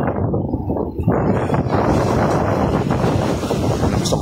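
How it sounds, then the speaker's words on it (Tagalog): Gusty wind buffeting the microphone along the Manila Bay shoreline, a loud rushing roar that swells after a brief lull and stays constant. "Gusto ko hangin, no?"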